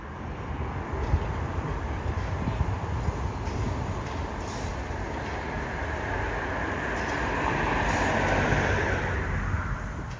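A steam train rolls into Kipsdorf terminus on the Weißeritztal narrow-gauge railway in autumn, a steady broadband rumble of wheels and carriages that stays loud and continuous, swelling slightly toward the end, with no voices.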